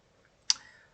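A single sharp key click on a computer keyboard while a program is being typed, one quick near tap with a short ring-off in an otherwise quiet room.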